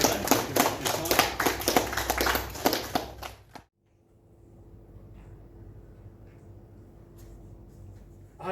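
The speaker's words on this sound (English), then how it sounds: "If you'd like to give the gentleman a round of applause for coming today." Audience applause for a guest speaker at a talk on military history. Brisk, fairly close clapping from a modest group lasts about three and a half seconds, then stops abruptly, leaving quiet room tone with a faint steady hum.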